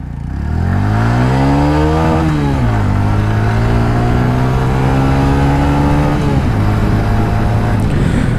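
Close, loud engine of a 2022 TVS Radeon 110 motorcycle revving up, dropping back and holding steady through several throttle changes, a continuous buzzing drone.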